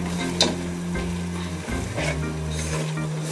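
Spinach and prawn masala sizzles steadily in a hot pan while a spoon stirs and scrapes through it, a close, continuous frying crackle with soft irregular clinks.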